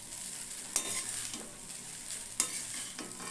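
Chicken kasha with potatoes frying in a pan, a continuous close sizzle broken by two sharp scrapes of a spatula stirring against the pan.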